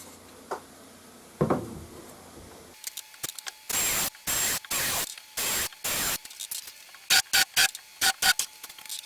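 A wood screw is driven into a small crosscut sled for a DeWalt DW745 table saw, heard as a cordless driver's whirring bursts in short, repeated pulses, loud and close, after a few faint handling knocks.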